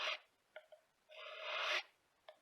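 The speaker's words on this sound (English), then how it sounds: "Just start kind of filing that down" Rasp file working down a powder horn, a couple of short scrapes followed by one longer steady rasping stroke, close and fairly quiet.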